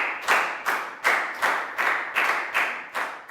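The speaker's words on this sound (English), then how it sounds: "a big round of applause for everyone" A whole class of students claps together in an English lesson, about eight evenly spaced bursts of clapping, close and fairly loud with no talking.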